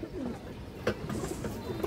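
Pigeon cooing, apparently from a breeder's flock of racing pigeons bred for long flights, heard as soft low coos close by over a steady background murmur.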